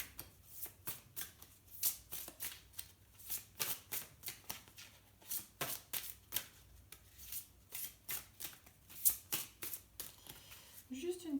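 Tarot cards are drawn and placed one by one in steady, rapid flicks and slaps, close and fairly quiet, with a voice speaking throughout.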